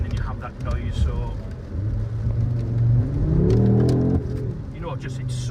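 Audi RS3 engine idling with a deep rumble, then revving up in a rising roar that cuts off sharply, with people speaking over it.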